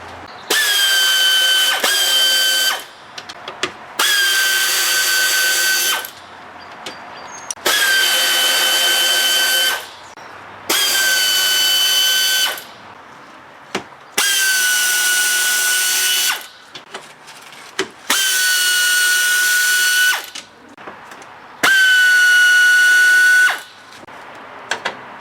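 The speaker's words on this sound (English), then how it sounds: "I'm going to start by removing all of the torx screws." Power drill backing Torx screws out of the upper cowl on a 2000 Chrysler 300M, heard as about eight loud, steady whirring bursts of two to three seconds each, separated by short pauses with small clicks and handling noises.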